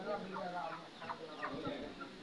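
Live chickens clucking repeatedly at close range at a poultry market, several birds chattering over a steady background hum.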